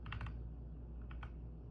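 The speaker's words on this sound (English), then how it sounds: "you would type start" Quick light keystrokes typing a short command on a computer keyboard, a brief cluster of taps followed by a couple more after a short pause, over a steady room hum.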